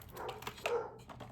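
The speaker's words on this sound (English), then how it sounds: "excuse my puppy barking" A puppy barks indoors, a few short, moderately faint yips and barks in quick succession with no talking over them.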